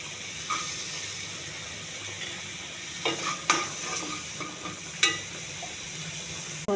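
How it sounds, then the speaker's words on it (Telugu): Onions frying in a pan: a constant hiss and sizzle with a few clicking spatula strokes, close and steady, no voices. "ఈ పెనంలో ఉల్లిపాయలు వేసుకుని వేగచ్చాలి."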